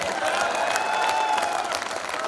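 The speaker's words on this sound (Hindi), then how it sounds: "आप लोग जोरदार तालियां बजाइए" An audience at a Hindi comedy poetry show gives loud, continuous applause, a crowded wash of clapping mixed with some cheering and faint vocal tones, heard for a couple of seconds.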